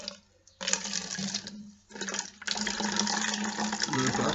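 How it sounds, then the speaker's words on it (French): Homemade ash lye liquid poured into a bottle, a close gurgling, splashing pour that starts and stops twice before running steadily. "je profite que tout soit au fond pour prendre une bouteille et verser directement à l'intérieur"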